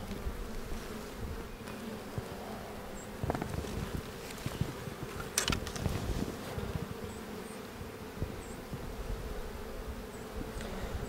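Honeybees in an open spring hive with a small colony hum in a steady close drone, with individual bees zipping past the microphone now and then, plus some faint handling knocks.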